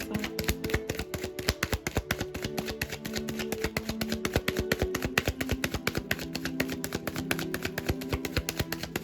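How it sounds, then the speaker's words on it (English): Tarot cards are shuffled by hand in a rapid, steady stream of crisp, close clicking and riffling taps that continues without pause and has no talking. "Shuffle, pull from the top."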